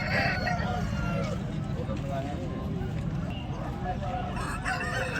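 Roosters crow repeatedly at a busy country chicken market in Guntur, their calls rising over constant crowd chatter and people talking nearby.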